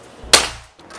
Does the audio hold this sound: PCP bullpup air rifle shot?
yes